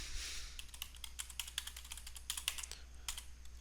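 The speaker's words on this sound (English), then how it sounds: "we're going to type in Infographics 1." A search is typed on a computer keyboard: a quick run of light, close key clicks in an uneven rhythm, alone and fairly quiet.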